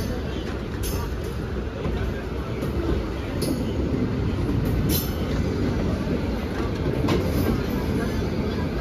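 The Saptagiri Express runs out of MGR Chennai Central toward Tirupati, heard from on board as a loud, steady rolling roar with occasional clicks from the rails and a high squeal, with no talk.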